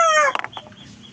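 A hen clucks close by while held in the hand, a short tonal squawk followed by a few quick clucks that fade out.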